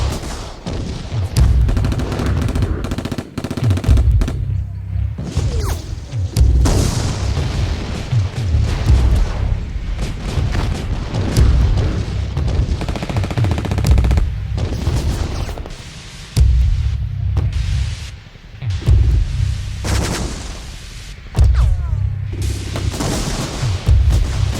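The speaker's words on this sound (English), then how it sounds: "a whole lot of shooting started up from both sides" Dense war-scene gunfire with machine-gun bursts and heavy booms as shooting erupts from both sides near a bunker, loud and continuous throughout with brief dips, no voices heard.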